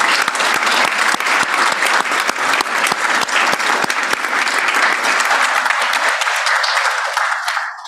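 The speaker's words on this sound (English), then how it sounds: "could you just give everybody we've heard from already a huge round of applause?" A law school symposium audience applauds in a dense, sustained round of many hands, loud and close, carrying on for several seconds before starting to thin out at the end.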